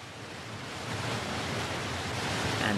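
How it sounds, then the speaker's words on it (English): A waterfall pours down over a big rock, giving a steady, full roar of rushing water that holds even and fairly close throughout with no other sounds. "this is a waterfall. The water is falling down over a big rock."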